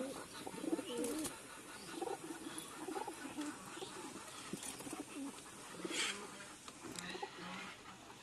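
Pigeons in a crowded loft give low, soft cooing calls with fluttering and scuffling, quiet and close, as a newly added bird is pecked and pushed out by the others.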